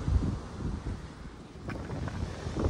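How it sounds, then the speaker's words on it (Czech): Strong wind buffets the microphone beside an Italian shipwreck on the shore, gusting in uneven loud rumbles that rise and fall, with faint surf underneath and no voices. "dost fučí vítr"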